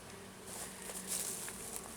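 Male bees buzzing among a dense colony of thousands of bees, a steady insect hum with brief louder swells as individual bees pass close, no voices.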